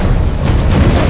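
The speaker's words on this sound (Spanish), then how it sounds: "Desde este lugar podemos sentir cómo las explosiones casi están moviendo este hotel." Deep, heavy booms rumble steadily at close range, a low rolling roar of explosions with no other sound on top.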